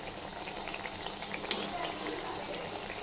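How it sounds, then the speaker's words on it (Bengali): Flour and sugar pitha frying slowly in oil in a pan, a soft, steady sizzle and bubbling close by, with one brief sharp crackle midway. "আস্তে ধীরে ভাজতে হবে"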